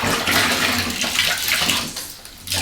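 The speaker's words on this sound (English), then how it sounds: "get your sponge in the water." Sponge plunged and wrung out in a bucket of water while wiping freshly grouted tiles, giving a steady close slosh and trickle of water running on without pause.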